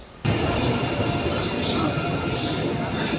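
A passenger train stands halted at a station on a journey toward Shimla and Manali, with a steady, loud broadband rumble of rail and carriage noise after a quiet first moment, and voices mixing in throughout.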